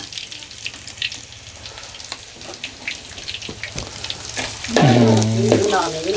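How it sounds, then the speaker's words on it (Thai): Garlic, shallots and chili stir-frying in a pan give a steady crackling sizzle with scraping stirs, and a voice briefly joins near the end over the frying. "คั่วกระเทียมครับตามสูตร อืมนี่ ใส่หหอมกับพริกด้วยนะครับนอกเหนือจากกระเทียมแล้ว"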